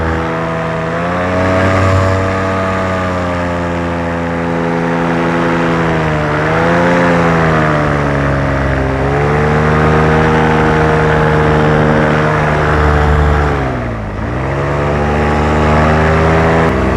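A paramotor engine runs steadily at partial throttle in flight under a Sky Paragliders Zorro wing, a loud close droning buzz with strong harmonics that dips and rises in pitch a few times as the throttle changes.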